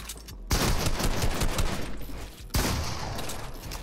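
Rapid gunfire bursts from a Fortnite box fight, dense and loud, with a sharp fresh burst starting midway through and no voices over it.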